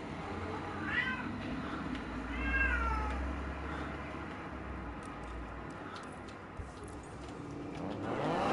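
A cat meows several times up close, a few drawn-out cries over a low engine-like background hum.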